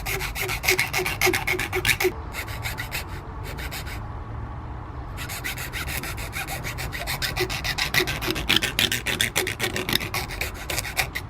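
A new metal battery tray piece for a 1965 Barracuda being trimmed to size, steady rasping, filing-like strokes in quick rhythm, close up, with a brief pause in the middle and no speech.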